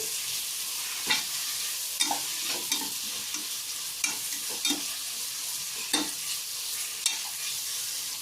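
Vegetable biryani being stirred in a pot, a ladle scraping and turning the rice in steady sweeps with a soft sizzle underneath, scrape strokes every second or so, close and alone.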